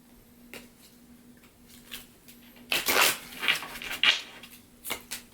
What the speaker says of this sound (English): Alright, so we'll pull 2 cards.